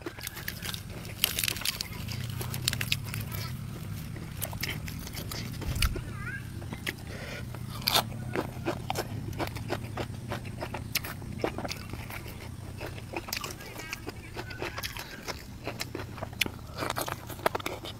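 Someone chewing crunchy beef close to the microphone, with repeated sharp crunching bites and chewing sounds throughout and occasional talk in between.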